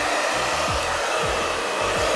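A handheld blow dryer runs loud and close in a steady airy roar, with a low motor hum that wavers slightly throughout.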